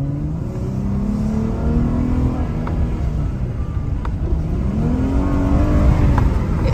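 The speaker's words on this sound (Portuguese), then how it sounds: "Vou dar uma aceleradinha agora, ó." A Dodge Challenger's engine revs continuously at close range, rising and falling in pitch over a steady loud rumble, with no talking.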